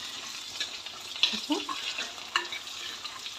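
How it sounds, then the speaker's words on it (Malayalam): Curry leaves and stems drop into a bubbling pan of hot oil with mustard seeds while making a spicy mango dish, giving a soft, steady sizzle with scattered spoon-stirring scrapes and a brief spoken word. "ഈ തിളച്ച് വരുന്നതിനകത്തോട്ട് കുറച്ച് കറിവേപ്പില ഇട്ട് കൊടുക്കാം."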